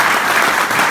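An audience at a boot camp event applauds, a dense, loud, continuous wash of clapping from a crowd filling the whole moment.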